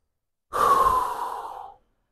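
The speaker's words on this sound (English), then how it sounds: "And take some deep breaths." A single slow, deep breath drawn in and let out during a relaxation exercise, close to the microphone, lasting just over a second and then followed by silence.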